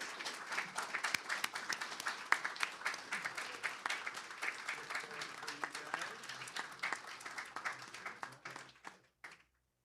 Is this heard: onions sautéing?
no